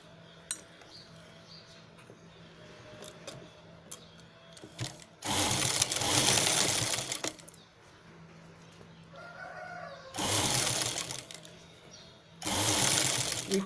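Home sewing machine stitching a zip chain onto round velvet cloth for a purse, with three loud bursts of fast stitching separated by quiet pauses and faint handling clicks, close by, no talk.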